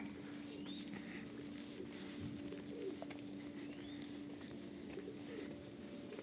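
Soft, low pigeon cooing blends into a steady outdoor background hum in a park in Truskavets, Ukraine, with faint bird chirps drifting in now and then.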